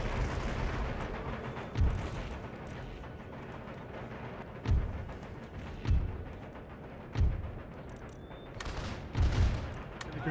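Howitzer artillery fires in Empire Total War: heavy booms land every second or two over a constant rumbling battlefield din, with a faint distant crackle of musketry between the shots.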